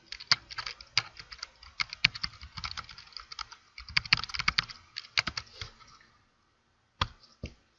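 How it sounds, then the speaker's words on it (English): Typing on a computer keyboard, a close sequence of quick irregular key clicks that stops briefly near the end before a couple of final taps. "Again, you type in the question."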